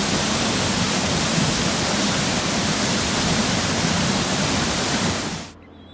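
A waterfall roars as a loud, constant broadband rush that holds steady for over five seconds before cutting away to near silence.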